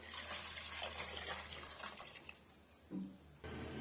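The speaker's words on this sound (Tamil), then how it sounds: "தேவையான அளவுக்கு நம்ம தண்ணி சேர்த்துக்கலாம்" Water is poured into a pot of brinjal and lentil sambar, a steady splashing pour that runs for a couple of seconds, fades, and then comes back briefly near the end, with no talk over it.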